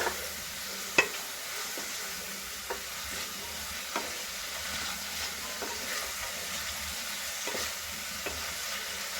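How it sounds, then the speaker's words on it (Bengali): Ginger-garlic paste stirred into browned onions in a pan for egg curry: a soft, steady sizzle with periodic clicks and scrapes of the spatula, fairly quiet and without speech. "আদা রসুনের পেস্ট দিয়ে নাড়াচাড়া করব।"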